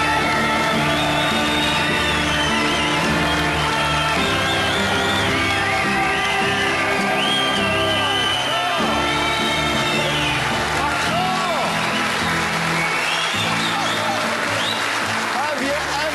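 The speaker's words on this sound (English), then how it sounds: "I want a huge round of applause." A studio audience applauds and cheers steadily at a demonstration of a battered Toyota that still runs. Whoops and shouts rise from the crowd, mixed with loud music, and the sound stays dense throughout.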